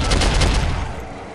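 Gunfire in the first-person shooter Soldier of Fortune: a loud, dense rattle of rapid shots right up close that thins into a rumbling tail within about a second.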